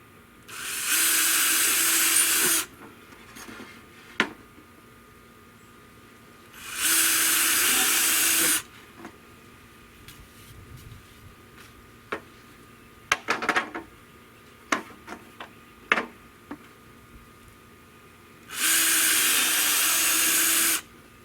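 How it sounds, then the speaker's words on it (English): A power drill bores a pilot hole into pressure-treated wood for a greenhouse build, in three sustained loud whirring bursts separated by quiet pauses filled with scattered clicks and handling knocks. "so I'm just going to drill a hole here."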